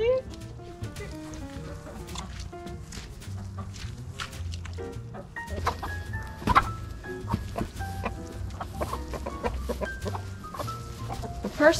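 Several chickens cluck and squawk in bursts close by, with a rooster-like call, over a low background rumble and scattered scuffling sounds.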